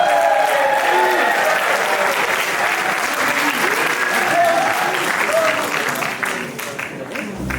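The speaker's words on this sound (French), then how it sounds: "j'aimerais un grand tonnerre d'applaudissements pour Aurélie." Sustained audience applause for a performer at an open-stage evening, a dense, steady wash of many hands clapping that holds for several seconds before easing slightly near the end, with a few cheers mixed in.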